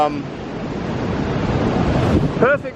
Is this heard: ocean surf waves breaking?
yes